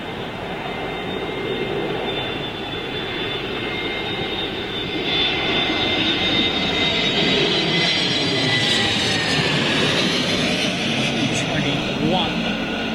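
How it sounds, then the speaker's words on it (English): A jet airliner in retro livery roars in on approach to Heathrow runway 27L during a storm, its loud engine whine swelling and holding steady over gusty wind, with people talking and cheering nearby. "It's a retro jet, isn't it?"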